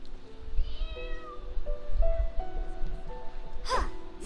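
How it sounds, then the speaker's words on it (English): Kittens meow in Genshin Impact, a string of clear, high, nearby mews one after another, then a short sharp hiss near the end, over a quiet low rumble and no talking. "Whoa, that's a fierce little kitten"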